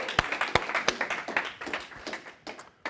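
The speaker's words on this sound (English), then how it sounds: "Round of applause." A small audience at a live dating-advice seminar gives a short round of applause for a volunteer, sparse and fairly sharp individual claps that gradually thin out, fairly quiet and unaccompanied by talk.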